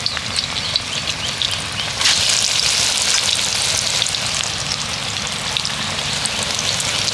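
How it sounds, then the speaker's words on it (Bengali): Potato and onion pakoras fry in hot oil with a steady, loud, crackling sizzle that swells a little stronger partway through and stays continuous with no talking. "তেলটা গরম হয়ে গেছে, এবার তেলের মধ্যে ছেড়ে দেবো।"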